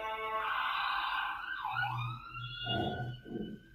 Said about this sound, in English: That sound we hear in the background, that siren, can you guys hear that?